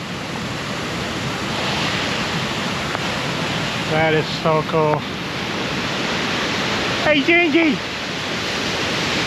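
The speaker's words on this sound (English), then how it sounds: "Look at that waterfall." Steady broadband roar of a waterfall at a grist mill in Helen, Georgia, rushing continuously in the background while people talk briefly over it.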